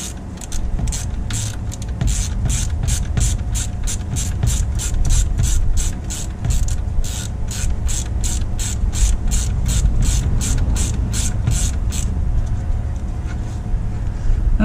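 A hand ratchet with a 13 mm socket turning an alternator bolt on a Ford F-350 with a 7.3 IDI diesel, rapid even clicking strokes close by over a steady background hum, stopping near the end.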